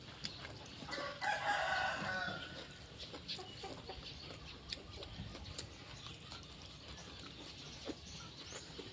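Chickens and roosters on a rural Thai farmstead, with a rooster crowing loudly near the start and hens clucking intermittently against a busy outdoor background.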